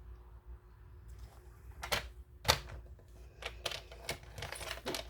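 A blade cuts a piece of material to length for a boxed card set, heard as a series of short, close scraping and clicking strokes that grow busier after a quiet start.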